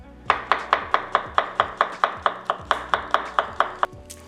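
A knife slices food on a cutting board in an even, rapid series of about fifteen crisp taps, close and clear with no voices.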